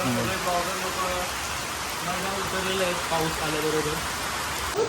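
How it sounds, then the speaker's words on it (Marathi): Steady hiss of rain pouring down at a farmhouse, with faint voices speaking underneath throughout. "पाऊस आलेला आहे बाहेर एक नंबर वातावरण झालेलं आहे"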